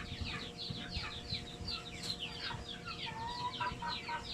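Many chicks peep constantly and close together on a poultry farm while being sorted by sex, a faint, busy chorus over a low mechanical hum.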